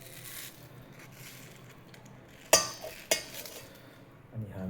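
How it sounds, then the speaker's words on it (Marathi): A knife slicing into a mango on a farm, with two sharp crunchy cuts close up over faint background noise, followed by a soft scraping handling sound. "आता त्याच्यात मी आत कापून पाहूया."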